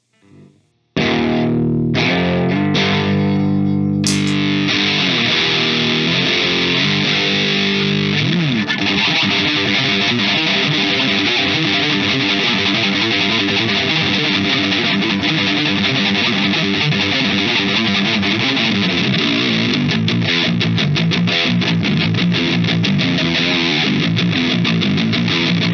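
An electric guitar plays through a Belcat distortion pedal with the drive turned all the way down, so the riffs come through loud and continuous as a mildly driven, clean-boosted tone with chords and single notes played throughout.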